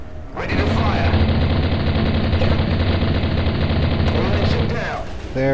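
Heavy weapons fire from a starship in a Space Commander battle at Tau Ceti, a loud, dense roaring barrage lasting several seconds before tapering off.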